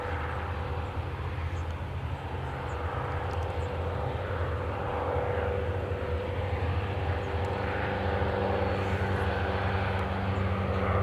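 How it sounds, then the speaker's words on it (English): A Mooney M20J propeller airplane at Kelowna airport gives a steady, continuous engine drone that holds at an even level throughout, fairly close, with no talking. "What you're seeing right now is a Mooney M20J."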